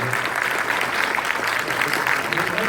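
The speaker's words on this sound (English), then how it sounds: "que je vous demande s'il vous plaît d'applaudir." Lively audience applause greeting a guest in a studio, dense continuous clapping at close range with a few voices mixed in.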